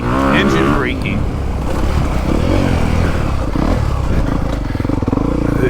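A 2022 Honda CRF250R dirt bike ridden through the woods, its engine loud and close, revving up sharply at the start and then holding a rough, continuous drone throughout.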